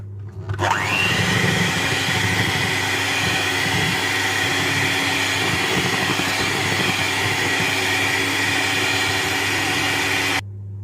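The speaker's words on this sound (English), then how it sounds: "So again we're going to whisk this together." Lemon zest and lemon juice being whisked into cake batter for a lemon drizzle loaf, heard as a loud, steady motorized whir that starts abruptly, runs unbroken for about ten seconds, then cuts off.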